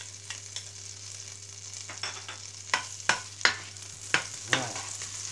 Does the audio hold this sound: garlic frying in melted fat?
yes